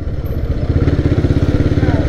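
A motorcycle rides through congested city traffic in Chittagong, its engine thumping in a fast, even pulse close to the microphone, loud and steady throughout.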